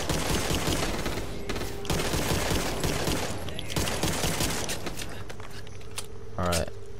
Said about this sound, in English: Bro, I love using the pistol